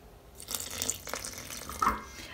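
Water is poured into a vegan shortcrust biscuit dough mixture in a bowl, giving a brief, soft splashing trickle that rises near the end, with no one talking.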